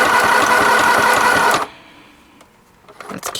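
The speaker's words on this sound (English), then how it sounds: "I'm going to put my needle down, I'm going to lift up my presser foot, turn it, go to the next side, go all the way down that side" A sewing machine runs a zigzag stitch around a fabric pocket, a loud, fast, steady whirring hum that stops abruptly partway through, then a few soft handling clicks and faint rustles.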